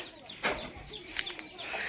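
Chickens clucking at feeding time on a village farm, several birds close by with short overlapping calls and scattered chirps in light outdoor background noise.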